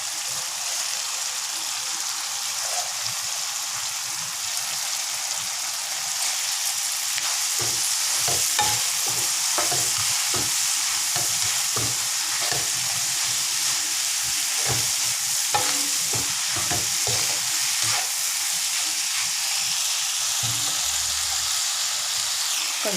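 Spinach is stir-fried in a pan for fried rice vermicelli with a steady, loud sizzle throughout, while a utensil scrapes and clacks in irregular stirring strokes close by.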